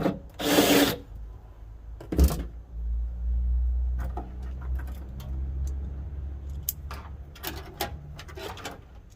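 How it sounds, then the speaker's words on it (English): A power drill boring a mounting hole while a fuel system is fitted to a turbo LS 1970 Chevelle, with a loud whining run of several seconds between clunks and handling noises, close to the microphone. "so then I just got to drill one more"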